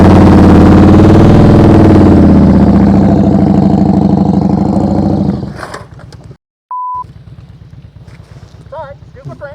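Motorcycle engine held at a steady throttle during slow-speed riding practice, a loud close rumble with a revving drone for about five seconds that then fades away, followed by faint outdoor background.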